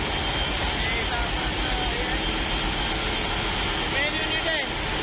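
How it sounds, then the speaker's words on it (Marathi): A ship's engine room roars with running machinery, a loud, steady broadband drone and hum that holds without change, while a voice talks faintly beneath it. "आपला इंजिन रूम आहे."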